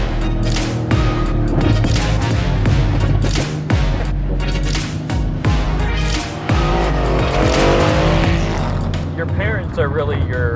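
A 2016 Mercedes AMG GTS time attack race car drives hard, its engine roaring loudly and steadily with rapid gear shifts and squealing tires throughout, close and dominant.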